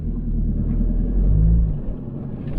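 A 4WD rolls along a rough gravel track at Sandy Cape, Tasmania: a low, steady engine rumble with a brief swell in the middle, heard close from inside the vehicle.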